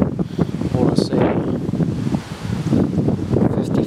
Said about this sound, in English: I know there's a lot of wind